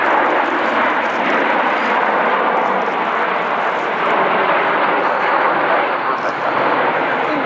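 Frecce Tricolori jet formation roaring overhead at the RIAT airshow, a loud, continuous broadband engine rumble with no breaks.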